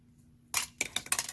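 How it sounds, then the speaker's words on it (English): Scissors snipping out a shape from polymer clay for a pendant, a quiet pause followed by a series of crisp, close cuts in quick succession. "with scissors, just like we did."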